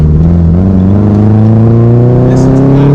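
A BMW 2002 engine runs while warming up, a loud, steady close-up drone whose pitch rises gently and evenly across the whole stretch.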